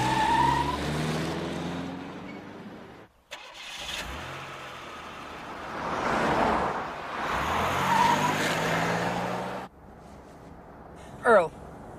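A town car drives west, its engine rumbling and swelling under frequent talk, with a brief break in the middle and a sharp sound near the end.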